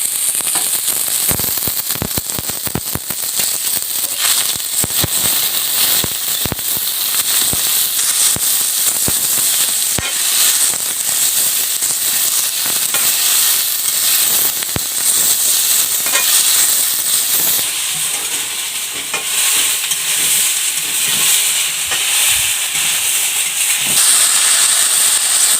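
Eggs and ginger-garlic paste sizzle in a hot pan while soybeans are cooked, a loud continuous hiss dotted with sharp spitting crackles all the way through.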